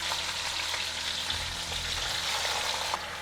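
Chopped tomatoes and cumin seeds frying in hot oil, giving a loud, dense, continuous sizzle and hiss close by, with no voices.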